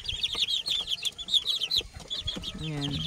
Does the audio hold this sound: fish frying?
no